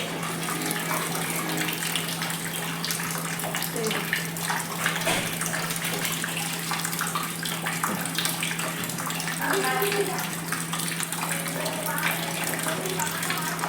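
Water from a tap pouring into a bucket, a loud, steady gushing splash that runs without break, heard up close, with some speech faintly over it.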